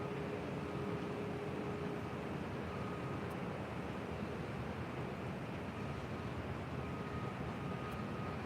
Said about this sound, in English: Southwest Airlines flight 1773 heading to El Paso, Texas. It's a 737-700.